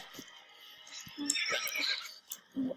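A horse neighs in a video game: a short whinny with several clip-clopping knocks around it, mixed with game sounds at a moderate level.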